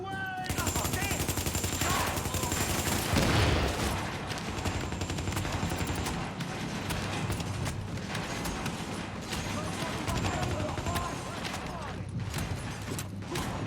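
Dense, sustained automatic gunfire in a combat sequence of the video game Tom Clancy's The Division, rapid bursts running almost continuously with a louder blast early on and mechanical clatter throughout.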